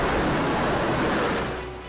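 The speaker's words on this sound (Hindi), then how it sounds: "ये हिलोरे मारता पानी" Surging, churning water waves in a sea survival training pool fill the moment with dense, loud broadband rushing that holds steady, then eases slightly toward the end, with no voices.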